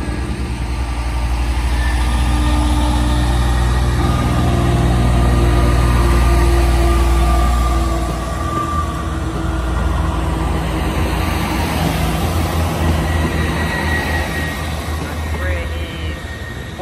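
A Great Western Railway passenger train pulls out of Worle station, a loud sustained engine rumble and drone that fills the scene and swells before easing slightly as it moves off.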